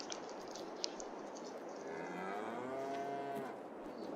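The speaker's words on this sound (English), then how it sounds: "Cows are mooing quite happily in it." Cattle moo in a cow barn in Farming Simulator 22, a single long drawn-out low call rising over a faint background hum.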